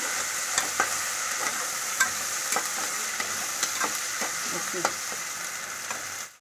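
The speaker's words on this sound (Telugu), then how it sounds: "ఈ అల్లం వెల్లుల్లి పేస్ట్ అయితే బాగా ఫ్రై చేసుకుంది అమ్మ" Ginger garlic paste frying in a pan for mutton curry, a constant bright sizzle broken by repeated sharp spoon scrapes and taps against the pan, close and clear with no speech, fading out at the end.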